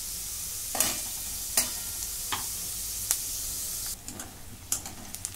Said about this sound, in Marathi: आता कांदा चांगला लालसर भाजून घेते।